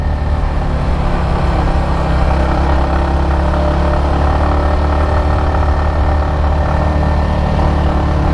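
A Yamaha XSR155 motorcycle engine drones steadily while climbing a steep, winding uphill road, with a constant loud hum and wind rush and no clear revving changes or voices.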